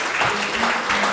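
A small group claps briefly in a casual indoor gathering among friends, the applause steady and moderately loud across the short moment with no talk over it.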